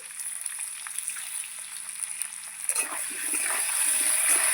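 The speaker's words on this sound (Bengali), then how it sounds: "ভালো করে লাল লাল করে ভেজে নেব" Fresh kohlrabi pieces sizzle in a pan with salt and turmeric for a light katla fish curry. A steady close frying hiss swells noticeably louder and busier partway through, with no voices.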